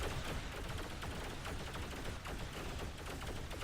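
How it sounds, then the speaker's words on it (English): In the space game X3: Terran Conflict, a ship fires its guns at a corvette, producing a steady, dense stream of rapid gunfire that stays faint and distant throughout, with no voices over it. "So, in go the bullets."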